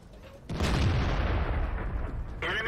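Tank gunfire in World of Tanks: a sudden heavy boom hits after a quiet moment and rolls into a sustained rumbling roar, then a tonal game sound rises near the end.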